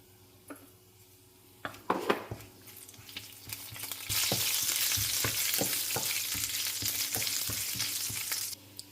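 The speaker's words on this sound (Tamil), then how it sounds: "நம்ம சோம்பும் கருவேப்பிலை தாளிப்போம்" Fennel seeds and curry leaves tempering in hot oil: a few sharp clinks and pops first, then a loud crackling sizzle bursts in and holds steady, punctuated by spatula taps against the pan.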